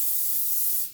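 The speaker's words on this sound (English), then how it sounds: "Then I can spray half for it." A short, steady hiss of an aerosol cooking spray, close and continuous for about a second.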